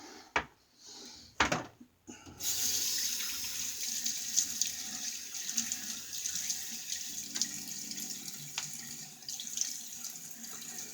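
A bathroom tap runs steadily after a few sharp knocks and clatters, as water flows continuously while a face is wetted before a wet shave with a blade razor and shaving soap.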